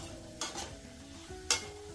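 Dried dates (kharik) fry in a pan, giving a close, soft sizzle with two sharp scraping stirs of a spoon, no voices present.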